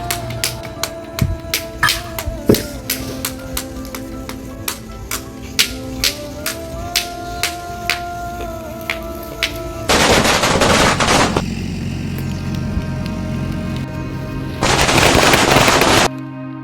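Handmade firecrackers burst in rapid repeated cracks, loud and close, forming dense crackling volleys with two longer sustained hissing rushes of noise partway through and near the end.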